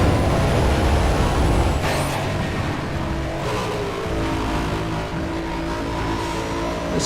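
A SARD MC8 Toyota MR2 with a V8 engine in Need For Speed World, a loud sustained engine roar that drops in pitch after a shift, with a brief hiss near the two-second mark, no talk.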